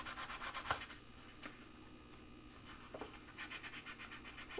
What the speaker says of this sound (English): I do like working with a spongy sandpaper.